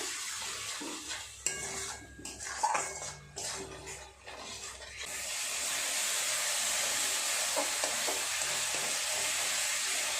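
A spice paste of garam masala and Kashmiri chili powder is stirred and fried in a pan, with scraping clatter of the spoon at first, then a steady soft sizzle after a splash of water.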